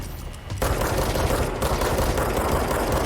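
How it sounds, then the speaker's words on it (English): A boss is riddled with sustained gunfire in the video game Control: after a short quieter lead-in, loud continuous automatic shots roar up close, dense and unbroken through the rest of the stretch. "we're just going to unload, just mag dump after mag dump into this guy"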